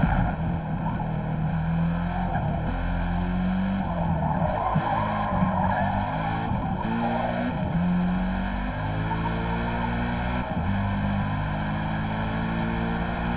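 A race car in Forza Motorsport screams at full throttle, its high engine whine rising and falling through gear shifts, with tire squeal on corners; loud and continuous throughout.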